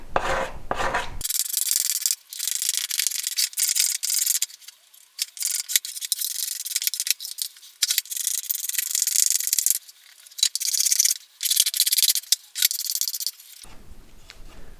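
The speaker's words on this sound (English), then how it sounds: "to do that, I'm just going to use a card scraper." A steel card scraper rasps glue residue and tape off a Thinline Telecaster guitar body in repeated bright, scratchy strokes, close and alone, with brief pauses between passes.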